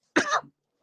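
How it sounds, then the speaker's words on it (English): A man gives one short, harsh cough, a single close burst that trails off with a throaty rasp and then silence. "got me coughing out here"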